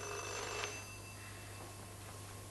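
A telephone rings with a bright, thin electric bell tone over a steady low hum, one burst early that then fades to a quiet room tone.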